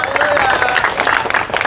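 A church congregation bursts into loud, close applause for Jesus, dense rapid clapping that fills the room and carries on without a break.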